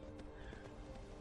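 In Skyrim, a horse whinnies while hooves clop rhythmically nearby, brief and fairly quiet with no talking.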